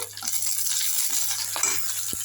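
Onions fry in a pan with a soft, steady sizzling hiss, along with a faint low hum and a couple of light clinks from a utensil near the end.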